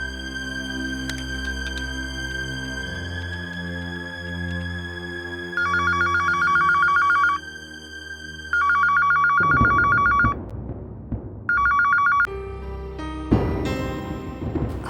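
A telephone ringing during a Bhojpuri drama series scene, a bright electronic ringtone repeating in regular bursts over continuous background music, loud and close.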